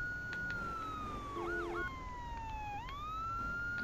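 A police car siren in the video game Grand Theft Auto III wails in a steady electronic sweep, rising and falling over a continuous engine drone, with synthetic game-like tones layered beneath.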